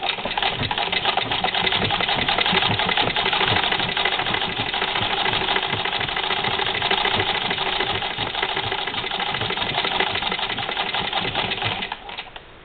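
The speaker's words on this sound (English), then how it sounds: "I may do one of the sections on the Brother machine just to see if it can do it" A Brother sewing machine stitches through layers of fleece and bulky sweater knit, a steady fast mechanical whir and needle clatter running loud and continuous, then stopping at the end.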